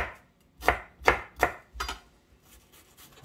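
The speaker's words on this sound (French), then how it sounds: "On va le couper comme ceci, très très fin." A knife chops an onion very finely, making four firm, close thuds on the board at a steady pace, then lighter, fainter cuts trailing off.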